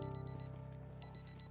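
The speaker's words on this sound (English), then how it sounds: "Our alarm is going off." In the video game Project Zomboid, an alarm clock rings in a fast, steady pulsing beep, loud and continuous with no one talking over it.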